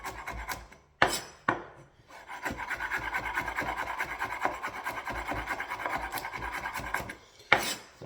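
Knife chopping shallot and other laksa ingredients on a cutting board, a steady run of quick rhythmic taps close up, with a few louder knocks at the start and end.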